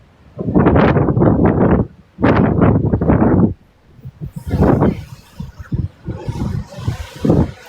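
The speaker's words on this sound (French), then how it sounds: "je suis au bord de mer, il y a du vent de fou" Strong, sand-laden seaside wind buffets the microphone in loud roaring gusts, two long blasts followed by choppier bursts while a person talks.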